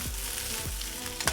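Chicken, shiitake mushrooms and sliced garlic stir frying in a hot pan for a Hunan chicken stir fry, a steady close sizzle with repeated scraping tosses of the spatula.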